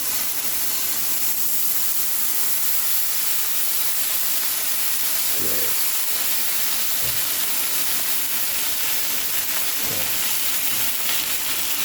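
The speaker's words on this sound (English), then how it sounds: "Bacon is sizzling." Bacon sizzling steadily in a pan, a continuous close crackling hiss with a few soft clinks in the background.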